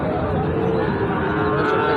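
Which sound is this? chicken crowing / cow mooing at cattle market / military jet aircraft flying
cow mooing at cattle market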